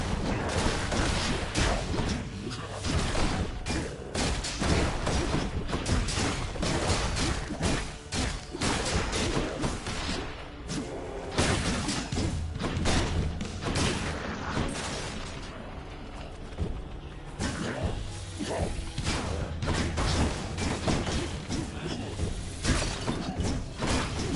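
Explosions and weapon impacts in the action video game Hades, a continuous dense barrage of blasts, crashes and clattering effects layered loudly throughout with no pauses.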